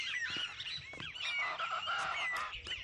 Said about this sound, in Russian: Чачалаки. Или птицы самба, названные так за издаваемые ими звуки.